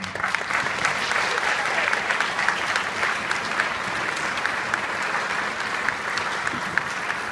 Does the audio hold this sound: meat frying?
no